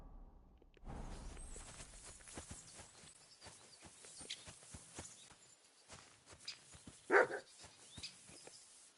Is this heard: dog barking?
yes